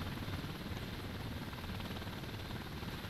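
Steady, continuous helicopter rotor thrum with a low pulsing beat from the video game Thunder Helix, constant in loudness throughout, with no voices.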